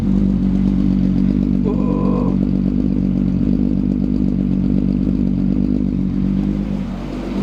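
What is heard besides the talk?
car engine running and revving after electrical repair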